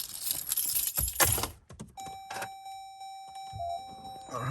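Car keys jangle and rattle briefly inside a car during a window repair, followed by a steady electronic chime tone from the dashboard and a few soft knocks, heard close and fairly faint.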